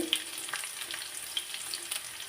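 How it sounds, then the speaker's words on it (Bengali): Black cumin seeds and chopped garlic fry in a hot pan with a soft, steady sizzle and faint stirring clicks, moderately close, no voices. "পেঁয়াজ রসুনগুলো আমি একটু ভালো মতো ভাজি করে নেব"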